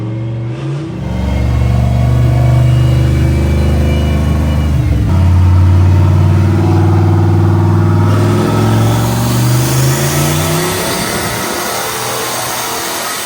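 A turbocharged Ford Foxbody Mustang street car, built for around 500 horsepower, revs hard through a baseline run, its engine note climbing loud and close with a brief dip around a gear change, no talking.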